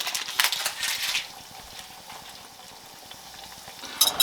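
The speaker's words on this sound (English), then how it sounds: "just let them fry up about 3 or 4 minutes on each side" Soft sizzling and crackling of pretzel-coated chicken frying in a pan, with a brief burst of louder spitting early on and again at the end.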